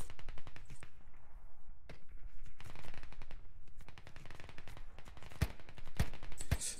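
Rapid machine-gun bursts and single sharp gunshots ring out in the Squad Ops video game, closely spaced and loud, with a few crisp cracks standing out near the end.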